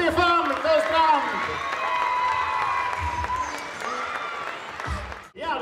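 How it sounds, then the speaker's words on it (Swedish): Applause fills the hall at a handball club's season-end celebration, with a crowd clapping steadily and a few cheers before it fades near the end. "Genom applåder, Stefan Sjöstrand"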